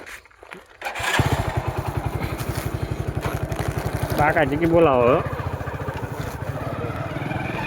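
Motorcycle engine running steadily close by with a throbbing mid-pitched rhythm, while people talk over it and a voice briefly rises in a sing-song call.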